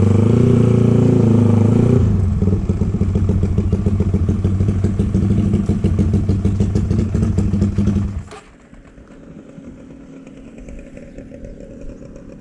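A carbureted Honda CBR150 engine in a Honda Sonic, fitted with an aftermarket API ignition box, runs loud and close with a rough, throbbing rev. Then the motorcycle pulls away and the engine drops to a much quieter, distant hum.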